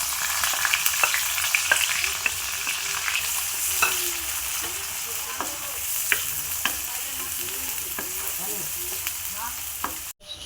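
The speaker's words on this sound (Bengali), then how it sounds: "এবার আমি পেঁয়াজ কুচিটা দিয়ে দেবো এর মধ্যে।" Chopped onion fries in a pan and is stirred, so a continuous near sizzle carries repeated scraping strokes of a utensil, with no talk. A sharp clunk comes at the very end.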